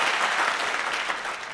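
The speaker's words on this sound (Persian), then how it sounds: "اینقدر تشویق، اینقدر چک چک" A concert audience claps and cheers in steady, dense applause, loud and continuous throughout with no voices heard above it.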